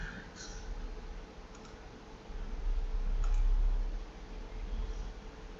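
A computer mouse clicks faintly a few times in a quiet room while shapes are edited in desktop software, with only a soft hum between the clicks.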